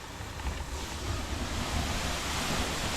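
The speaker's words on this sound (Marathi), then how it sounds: "मोटर चालू आहे" A farm motor pump runs steadily in a field during spraying work, a continuous broadband whir with low rumble and no talk over it.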